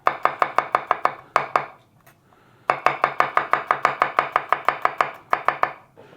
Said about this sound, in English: And now I'm just chopping up the ingredients